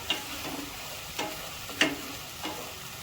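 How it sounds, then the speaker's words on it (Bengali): Spice paste being stir-fried in mutton fat for ghugni, a soft low sizzle with a few distinct spatula scrapes and taps spaced out over a few seconds, quiet and close. "এবার মশলাটাকে ভালোভাবে কষাবো যতক্ষণ না তেল ছাড়বে মশলাটার থেকে"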